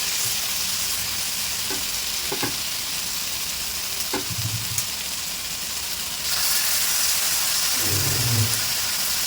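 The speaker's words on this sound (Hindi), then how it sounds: "चिकन है हमारी मैरिनेशन करी हुई, तो चिकन को हम इसमें डालेंगे" Marinated chicken for reshmi chicken tikka sizzles in a hot pan, a continuous close frying hiss with a few light clinks and a louder surge of sizzling near the end.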